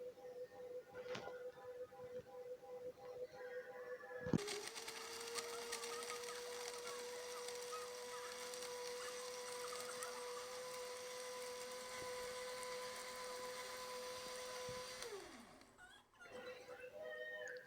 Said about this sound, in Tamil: இது எல்லாம் போட்டு நம்ம மிக்ஸி ஜாரில் நல்லா அடிச்சிட்டு வரலாம்.